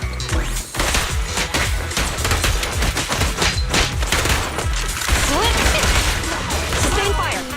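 Sustained gunfire in the action game Zenless Zone Zero, loud rapid bursts of shots and crashing impacts forming a dense, continuous barrage with clattering mechanical noise mixed in.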